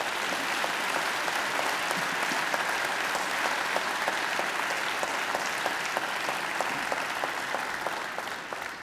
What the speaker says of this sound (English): She deserves another great round of applause.